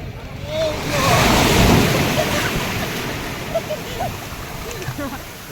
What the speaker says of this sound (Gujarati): દરિયા કાંઠે ફૂલ પવન આવે છે, મોજા આવે છે.